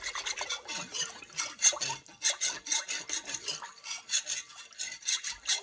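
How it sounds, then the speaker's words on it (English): Olive oil being whisked in a bowl for sourdough dough, a quick run of rhythmic scraping strokes against the bowl, close and fairly faint, with no talking. "I'll just give this a little quick whisk,"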